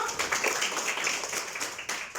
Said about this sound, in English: Well done. Clap for Afia.